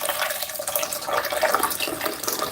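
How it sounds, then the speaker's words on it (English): Hot water is poured over rice in a pot, a steady splashing, bubbling trickle that runs continuously at moderate loudness with no talk. "put some hot water over the rice."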